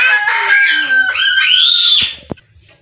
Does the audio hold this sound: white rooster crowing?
yes